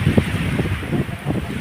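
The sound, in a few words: cold wind blowing outdoors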